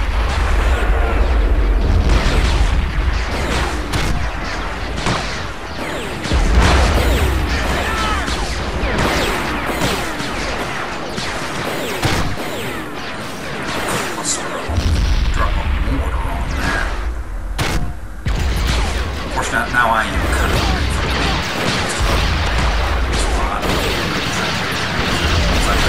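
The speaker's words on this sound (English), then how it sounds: "Mortar right on target" Mortar shells exploding in the Men of War: Assault Squad 2 war game, a dense barrage of loud booming blasts and crashes over rumbling battle noise, layered with game chatter.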